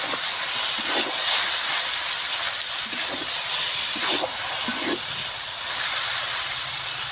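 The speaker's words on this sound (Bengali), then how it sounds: "তারপর নুডলসের মশলাগুলো দিয়ে নুডলসগুলোকে ভালো করে নেড়ে নিলাম।" Boiled noodles stir-fried in a pan with onion, chilli and noodle spice mix, giving a steady loud sizzling hiss throughout, with a few soft scraping stirs along the way and no talk.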